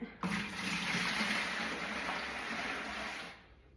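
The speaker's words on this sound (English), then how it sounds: "We're gonna put water in it." Water runs steadily into a bucket in a garage for propagating a monstera plant, a continuous close splashing pour that stops near the end.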